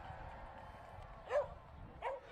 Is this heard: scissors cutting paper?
no